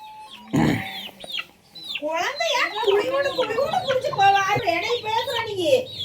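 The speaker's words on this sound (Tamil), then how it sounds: "கோழிங்கெல்லாம் பாருங்க ஆட்டத்தை பாருங்க" Chickens cluck and chatter close by in a busy, overlapping jumble while a person talks over them.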